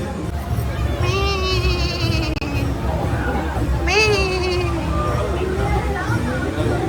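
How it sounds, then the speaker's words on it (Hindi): Goats bleating in a busy crowd near the Kamakhya Devi Temple in Guwahati, two wavering cries about three seconds apart rising over steady babble and talk. "बकरी"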